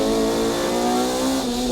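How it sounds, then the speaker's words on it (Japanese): Several race cars, including an Amuse S2000 and an Accord, accelerate wide apart into the first corner of a circuit, a loud sustained engine drone with rising and shifting tones and a hint of tire squeal throughout. "The 3 cars wide apart going into the first corner."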